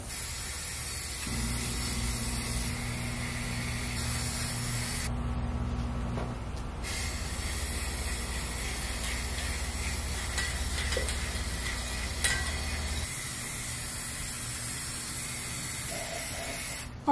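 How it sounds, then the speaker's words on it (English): A Rust-Oleum trigger spray can sprays primer paint onto clone trooper armor, a steady close hiss that holds for several seconds and then tapers into quieter background. "this Rust-Oleum thing just clips on top of the paint and it sprays a nice fine spray with this little trigger"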